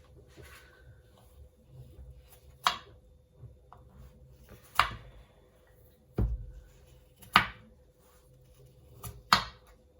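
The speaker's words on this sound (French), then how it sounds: "On coupe les pommes en cubes." Knife chopping apples into cubes on a board, five sharp separate cuts spaced a second or two apart over a quiet background.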